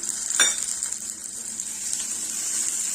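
Tomatoes tip into a pan of onions already sautéing for a spicy matki masala, giving a brief soft thump followed by a steady, moderately loud sizzle and frying hiss that continues on its own.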